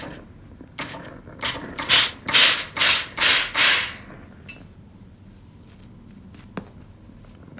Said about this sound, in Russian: Вот таким вот образом раскладываем швы и разутюживаем.